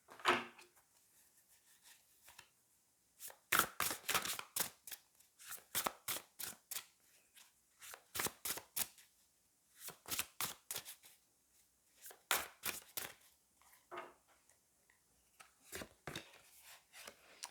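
Tarot cards are riffled and handled in a series of crisp, close bursts, each a quick run of flicking card sounds, separated by short quiet pauses, with no talking.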